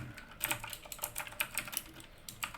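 Quick, irregular keystrokes on a computer keyboard, entering a command into a Minecraft Bedrock Edition command block, heard close and fairly quiet with small bursts of taps and no talking.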